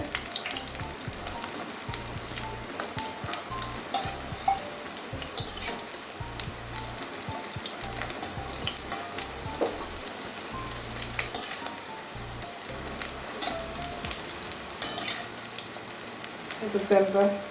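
Bitter gourd frying in a pan gives a steady, close sizzle with occasional stirring scrapes throughout, and faint talk in places.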